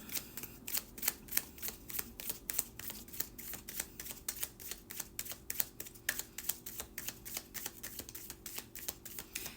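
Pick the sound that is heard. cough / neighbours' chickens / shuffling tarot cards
shuffling tarot cards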